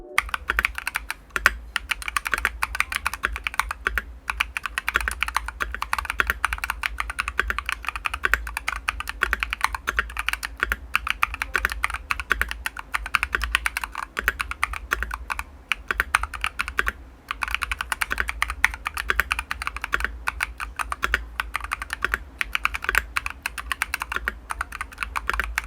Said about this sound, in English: here's a quick sound test of the Akko Air switches